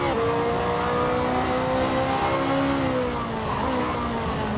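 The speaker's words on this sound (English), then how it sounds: "You can just hear that right front locking up." A BMW race car in a GT racing video game locks its right front tyre under braking, a steady loud engine drone with a rising, squealing scrub layered on top, close and continuous throughout.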